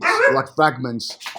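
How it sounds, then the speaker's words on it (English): A dog barks and whimpers in short, close, yelping bursts, mixed with a person talking nearby. "sorry about the dog"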